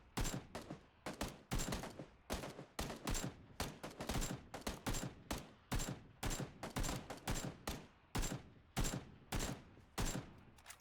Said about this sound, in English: That's me firing at him.